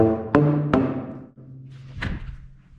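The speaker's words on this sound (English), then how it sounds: "Slap-a-phone." A slap-a-phone plays a commercial jingle: a few hollow, pitched tube thumps struck with a slap, each booming and fading, with a short pause before the last hit, heard alone without talk.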